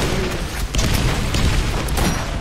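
Dense, rumbling blasts and bursts in the video game Borderlands fill the whole stretch, a continuous barrage of booming explosions with no pause, loud and close.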